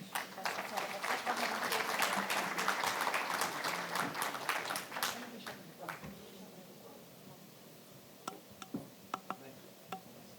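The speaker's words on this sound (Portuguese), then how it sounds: "Peço uma salva de palmas para ele também" Audience applause at a satellite industry congress, a dense round of clapping that swells early, fades out midway and leaves a few scattered claps, with speech in the room alongside it.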